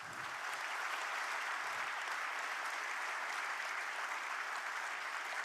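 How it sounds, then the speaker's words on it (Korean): Sustained applause from a large crowd at a national policy planning committee public report event, steady and dense throughout with no voices breaking through. "네, 박수 부탁드립니다."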